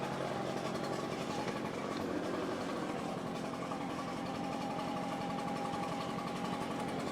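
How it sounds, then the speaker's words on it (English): A handheld leaf blower runs steadily throughout, a continuous dense motor roar and rushing air at moderate level, sweeping a dusty area with no pauses. "So I'm just going to sweep the whole area with this blower."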